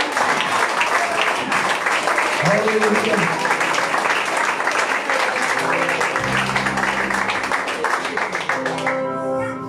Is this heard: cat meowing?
no